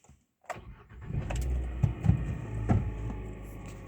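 A cold Hyundai Solaris engine cranks briefly after a near-silent moment, catches and settles into a steady, loud idle with a few throttle surges, running on 5W-30 oil with a knocking fault.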